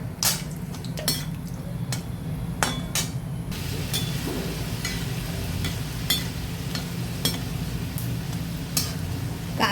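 Cashews roast in ghee in a pan for besan laddu, a steady low frying hiss with sharp clinks of a metal spoon against the pan scattered throughout, close and moderately loud, with no talking.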